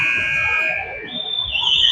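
A loud, sustained electronic horn sounds at the end of a period during a hockey game, a steady tone that shifts pitch partway through.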